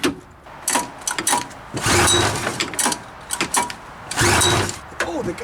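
A 1981 Polaris TXL snowmobile's starter rope is yanked in several quick, short pulls, each a loud, close rasping whir of the recoil mechanism, separated by brief pauses.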